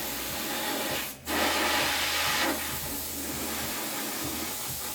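An airbrush sprays a light mist of paint onto a Predator head, a steady close hiss broken by a brief pause, then continuing slightly softer.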